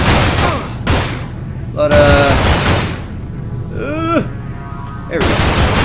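Gunshots in Manhunt 2, loud sharp bursts in a few separate clusters between shouted in-game voices and someone talking over the action.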